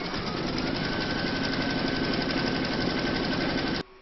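An embroidery machine stitches a round on fabric held in a hoop, a steady, loud mechanical whir with rapid needle rhythm running continuously before cutting off abruptly near the end.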